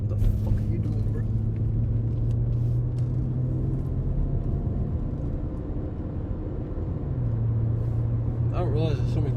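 Several cars drive on the road behind a moving vehicle, their steady engine and tire rumble running continuously throughout, with someone talking over the traffic noise.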